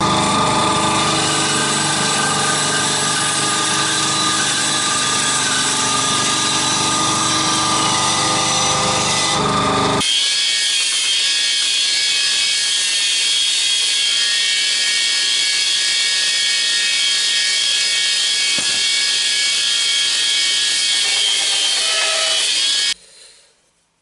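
A wooden forge hammer handle being planed flat into an oval section, a loud continuous power-tool rasp of steady wood abrasion for about ten seconds, then a quieter, thinner grinding that runs on alone until it stops abruptly near the end.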